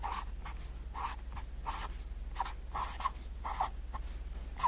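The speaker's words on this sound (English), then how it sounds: "So I'm going to write that at the very top." A marker or pen scrapes out a title across the top of a sheet of paper, in close, steady bursts of strokes with short pauses between letters, with no talking.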